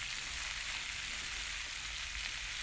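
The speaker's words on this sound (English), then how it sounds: "cook your cabbage uncovered for 5 minutes" Cubed cabbage fries uncovered in a pan with a steady, dense sizzle that stays close and even throughout, with no voices.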